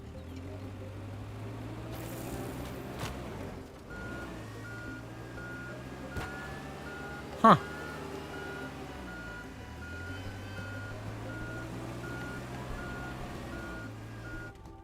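Reversing beeps from a vehicle in Minecraft repeat in a steady rhythm over a low engine rumble, broken by one sharp loud click midway, with a brief spoken exclamation.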